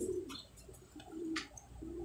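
Pigeons in a loft cooing softly, a few low repeated coos close by with brief higher chirps between them over quiet background.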